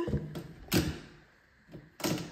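Hinge being replaced on a door during renovation work in a château, a series of sharp knocks and thunks from handling the door and hardware, irregularly spaced and close.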